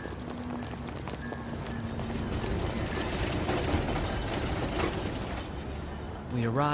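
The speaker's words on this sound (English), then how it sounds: "The next morning we caught a tram all the way into the city." A tram heads into the city with a steady rolling rumble and rattle that continues throughout. Muffled voices murmur faintly underneath it.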